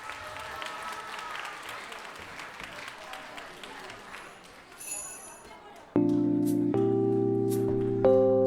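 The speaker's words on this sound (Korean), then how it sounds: "네, 큰 박수로 맞아주세요." Audience applause at a church Christmas performance by an elementary department, steady moderate clapping from a crowd that fades out before loud music starts.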